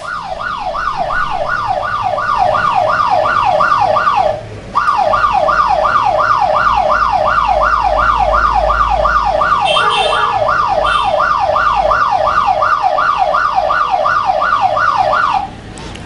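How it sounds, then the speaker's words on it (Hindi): An anti-theft alarm app on a mobile phone sounds a loud wailing siren that sweeps rapidly up and down without pause, briefly cutting out once before resuming and then falling silent near the end. "जैसे ही इस नंबर पे ये मैसेज रिफ्लेक्ट होगा वैसे ही सायरन ऑफ हो जाता है हमारा"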